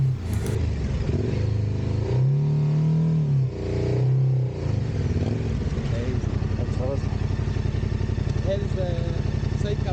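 A Yamaha Tenere 700 motorcycle engine starts after the bike has been on its side, then revs up and settles into a steady, loud, close rumble while a person talks over it.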